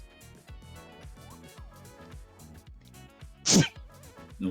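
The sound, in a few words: sneeze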